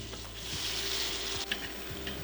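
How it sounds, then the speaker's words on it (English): Spices and tomato paste being stirred and toasted in a pan for a beef short rib masala, giving a steady close sizzle with soft scraping stirs throughout. "Give this a stir to toast the spices"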